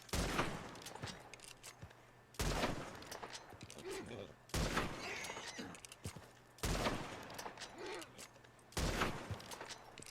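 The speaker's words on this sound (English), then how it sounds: "You can definitely see the Turkoman getting agitated by the gunfire." Gunfire in Red Dead Redemption 2 near a Turkoman horse, five separate loud bursts of rapid shots roughly two seconds apart, each cutting off sharply, with quieter gaps between.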